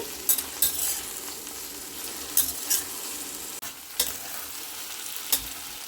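Okra pieces frying and being stirred in a pan, a continuous close sizzle broken by repeated spatula scrapes and clacks at an uneven pace, with no talking.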